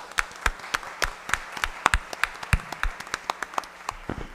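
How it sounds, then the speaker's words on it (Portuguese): Scattered, sparse hand claps from a small forum audience ring out unevenly in a quiet room, each clap sharp and distinct. "aproveitar a pessoa da Valéria, dar uma salva de palmas para todos os assistentes sociais"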